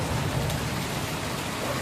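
Heavy rain pours onto a road in an area that floods quickly, a steady, loud, even hiss with no pauses and no voices.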